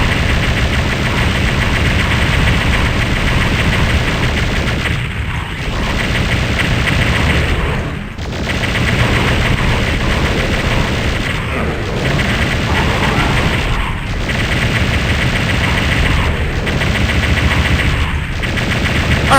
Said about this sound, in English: just go ham with the plasma rifle on them